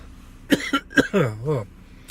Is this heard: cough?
yes